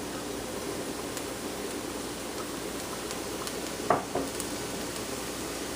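Peppers, leeks and onions meant for green beans go into a hot pan, giving a steady even sizzle with one brief clatter and splash partway through.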